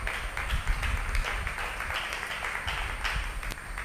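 Audience applause in a church, steady dense clapping filling the room at moderate loudness throughout, with no voices standing out.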